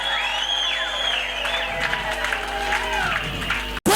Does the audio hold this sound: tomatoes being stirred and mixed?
no